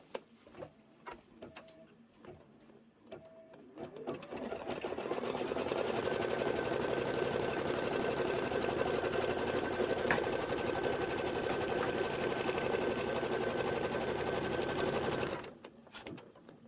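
An embroidery machine stitches out a tea towel design in a steady, fast, even needle patter that runs unbroken for about eleven seconds before stopping, preceded by a few light clicks and taps.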